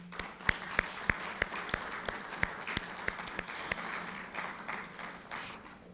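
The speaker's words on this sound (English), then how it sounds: "if we could give just a round of applause to all three of these for their wonderful presentations" Scattered audience applause for three presenters at a literary symposium, a few sharp individual claps standing out over a soft steady patter, moderately loud and thinning toward the end.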